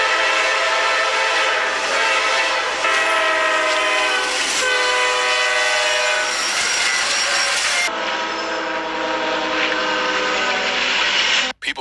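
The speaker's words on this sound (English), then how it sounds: "People tried to warn the train but failed, and their luxury car was dragged quite far." A train sounds its horn in long, loud blasts while striking and dragging a luxury car along the tracks, with a grinding, rumbling scrape beneath that shifts partway through before cutting off abruptly at the end.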